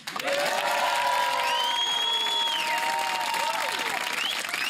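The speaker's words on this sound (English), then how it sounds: "now give us a big round of applause again." A crowd claps steadily and loudly throughout, a sustained wash of applause with some cheering mixed in, fairly close.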